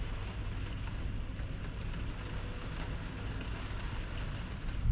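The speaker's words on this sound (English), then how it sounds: "It keeps raining harder and softer." Steady rain drums on the roof of a cargo van at night, a dense, even patter with a low rumble underneath, constant and close with no voices.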